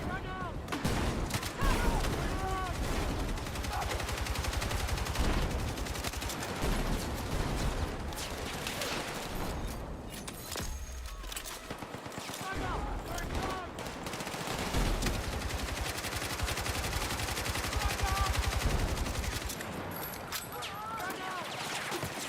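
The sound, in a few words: machine gun fire down a hallway in a video game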